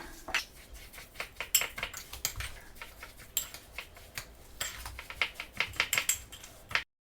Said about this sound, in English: So I'll mix all this together.